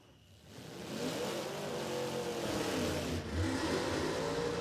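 A drag racing car with a tough LS engine, airbagged all around, revs hard through a smoky burnout at Warwick Dragway, Australia, a loud sustained engine roar after a quieter opening.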